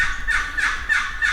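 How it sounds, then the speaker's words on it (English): Young wild turkey jakes gobble outdoors in the morning, four rapid rattling gobbles in quick succession, close and loud. "it looks like we got on a bunch of gobbling jakes this morning"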